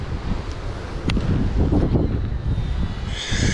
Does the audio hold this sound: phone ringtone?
no